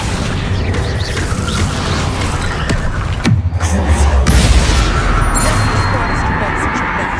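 Magic spells cast in the video game Hogwarts Legacy, heard as a dense run of booming bursts, pops and crashing impacts over a constant roar, loud and close, with a heavy low thump about midway.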